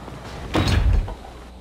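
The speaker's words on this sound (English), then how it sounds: "They busted the door." A door is busted open in a video game, a single loud heavy thud and rattle over a steady background hum.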